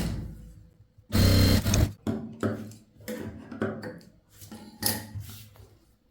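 A sewing machine stitches a chudithar belt piece in short bursts: one loud run of stitching, then several briefer pulses with pauses between, close by.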